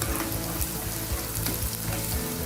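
Cinnamon sticks, cardamom pods and bay leaves frying in hot oil for a chicken roast, giving a dense, steady sizzle that stays loud and continuous throughout with no talking.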